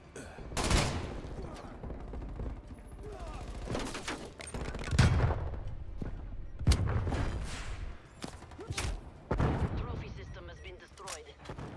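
Repeated gunfire bursts in Call of Duty Black Ops Cold War hardcore team deathmatch on the U-Bahn map, sharp cracks and short volleys spread across the stretch, with a voice talking between the shots.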